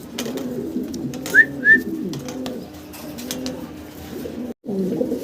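A pair of large Mookee pigeons cooing close by, soft low throaty coos repeating through the clip with a couple of brief higher whistle-like notes, no talk.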